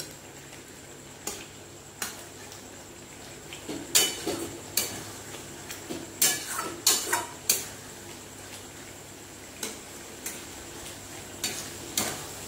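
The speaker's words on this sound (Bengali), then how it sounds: "এইবারে দিয়ে দেব ভেজে রাখা চিকেন" Fried chicken being added to a pan and stirred for a Bengali chicken dal, a run of light clinks and scrapes of utensil on pan with a few louder knocks, moderately close, no talk.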